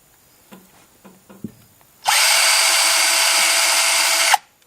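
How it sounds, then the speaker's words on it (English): After a few faint taps, a power drill with a reverse drill bit whirs loudly and steadily for about two seconds while drilling out a valve in a Subaru EJ25 engine, then stops abruptly. "You get in there deep enough, and then it just kind of bites in, and you start drilling out."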